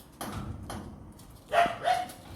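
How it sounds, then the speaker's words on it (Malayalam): A dog barks outside with two short, moderately distant barks, heard over a steady background hum. "വെളിയിലൊരു ഡോഗ് ഇരിക്കുന്നു."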